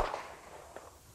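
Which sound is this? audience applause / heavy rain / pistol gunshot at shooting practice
pistol gunshot at shooting practice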